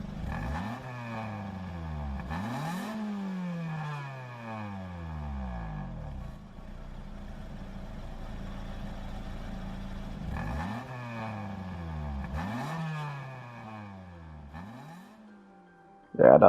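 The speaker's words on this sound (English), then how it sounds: "I'll let you hear the engine noises on that one" A Honda Civic Si Extra in Gran Turismo 7 revs hard through repeated gear sweeps, the engine note climbing, dropping at each shift and climbing again in steady cycles, loud and close throughout.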